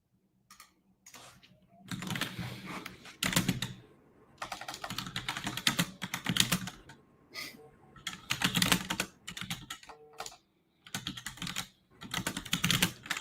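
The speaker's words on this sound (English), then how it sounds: "Your typing is super loud today." Loud, fast clattering of keys on a computer keyboard in bursts with short pauses, close by, with faint background noise.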